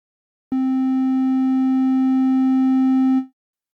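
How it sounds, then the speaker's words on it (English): A steady triangle-wave tone from a Yamaha Montage M synthesizer holds one pitch for about three seconds, clean and loud with only faint upper overtones, then cuts off. "Then we have triangles with even fewer harmonics."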